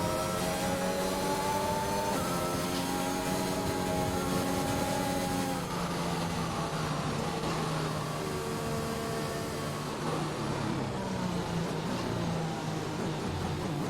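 A race car engine in a racing video game revs and drones loudly, pitch climbing and shifting in sweeps, with a second engine tone blending in partway through.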